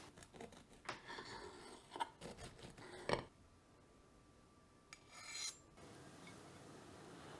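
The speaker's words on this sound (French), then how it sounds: "je me coupe une part" Knife cutting a slice from an apple muffin cake made with brown sugar, a few close crumbly rasping strokes, then a quiet pause and a brief final scrape.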